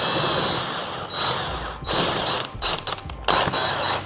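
Bolts being driven into the backrest of a DEUXLIFE gaming chair, with a run of close ratcheting and clicking mechanical turns, several short bursts separated by brief pauses.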